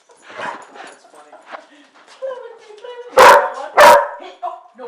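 A dog lets out two loud, sharp barks in quick succession near the end, following softer dog whimpers and vocal sounds mixed with people talking nearby indoors.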